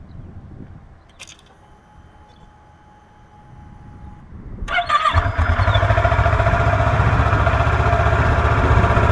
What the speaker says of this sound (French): on met le contact et on vérifie après allumage de la moto